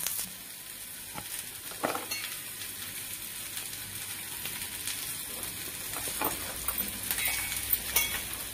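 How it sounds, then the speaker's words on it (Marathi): Chopped onion frying in oil in a pan until reddish, a soft, steady sizzle with a few faint clinks of stirring, quiet and close, no voices. "कांदा लालसर होईस्तोवर भाजून घेऊया"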